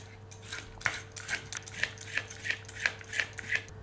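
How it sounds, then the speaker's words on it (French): Carrots being peeled with a peeler, a steady series of about ten short scraping strokes at an even rhythm, close and clear with a faint background hum and no talking. "On épluche les carottes"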